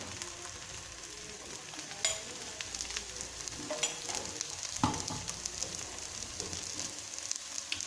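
A pearl millet and fenugreek leaf dosa sizzles in oil on a pan over a medium flame, a soft, continuous crackle and hiss with occasional sharper spatters and light clicks, close and quiet, with no talking.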